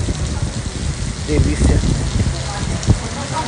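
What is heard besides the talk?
rain falling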